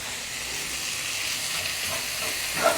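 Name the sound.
tomato and spice masala sautéing in pan for egg pepper fry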